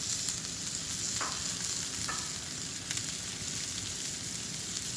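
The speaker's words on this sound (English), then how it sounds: "Adding my tomato now," Serrano tomato frying in a pan, a steady close crackling sizzle throughout with a couple of brief stirring scrapes, no voices.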